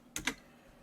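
Two quick, crisp keystrokes on a computer keyboard while entering a percentage value in Photoshop, close and quiet, with silence after.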